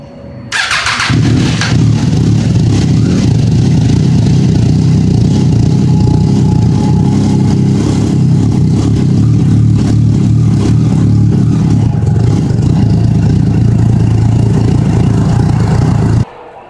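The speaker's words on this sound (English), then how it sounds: "we're going to start the bike and let it get up to operating temperature" A Triumph Daytona 675 motorcycle engine fires up after a brief moment and settles into a steady, loud, close idle that runs unbroken for about fifteen seconds, then cuts off abruptly.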